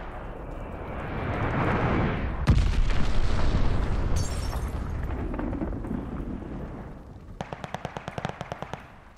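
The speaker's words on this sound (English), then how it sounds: "Enemy glide bomb incoming!" A glide bomb explodes in a video game, a loud boom followed by rumbling debris and scattered blasts, ending in a rapid burst of sharp gunfire-like cracks.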